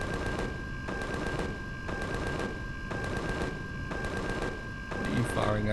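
Gunfire in the space survival game Empyrion Galactic Survival: rapid automatic bursts repeating in regular clusters at a steady rhythm, fairly close and continuous throughout.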